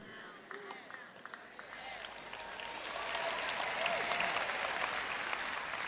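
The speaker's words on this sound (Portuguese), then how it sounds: "Foi um aplauso bem fraquinho, viu?" Audience at a church sermon gives light applause that swells gradually from scattered claps into a steady soft patter, under a faint background of voices.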